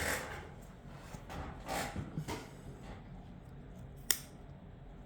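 Small scissors snip several times close by, crisp bursts against a quiet room.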